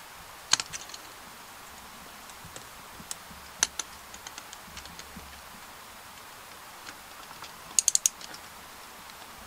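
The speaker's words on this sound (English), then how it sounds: "Switch our handy dandy ratcheting screwdriver back over to forward. Tighten." A ratcheting screwdriver tightens a screw on a servo in a Redcat Everest 10 RC crawler, giving sparse, quiet clicks and a few sharp ticks spread across the stretch with no talking.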